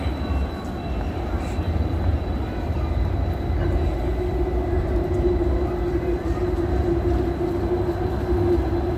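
A train rumbles steadily through Graz central station in Austria, deep continuous low noise, a faint higher tone and distant crowd murmur in a large echoing space.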